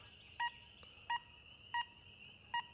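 An XP Deus II metal detector sounds over a silver thimble buried 9 inches deep: four short, bright, evenly spaced electronic tones over a faint steady hum and low background noise.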